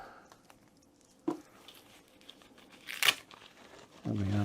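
Packaging of newly unboxed studio gear, a PreSonus Studio 24c interface and Yamaha HS5 monitors, being unwrapped: soft, quiet crinkling and tearing with brief sharp rustles and a louder tear near the end, close by.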